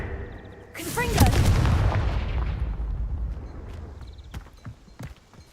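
A Confringo blasting spell in Hogwarts Legacy lands with a sudden loud burst, then a long rumbling roar slowly fades under a faint spoken incantation, followed by a few scattered crackles.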